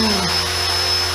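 An Align T-Rex 450 Plus RC helicopter carrying a GoPro in flight, its motor and rotors giving a loud, steady, close whine and hum that holds without a break.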